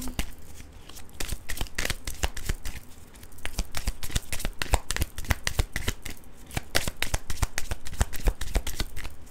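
A deck of tarot cards is shuffled by hand in quick, repeated riffling bursts, crisp papery snaps and flutters following one another closely and loudly for several seconds with no voice over them.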